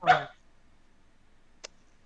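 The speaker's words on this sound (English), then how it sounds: "there's a puppy" A puppy gives one short, fairly loud bark up close, followed by a second very brief yip-like sound after a long stretch of quiet.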